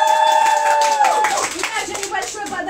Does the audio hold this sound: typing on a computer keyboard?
no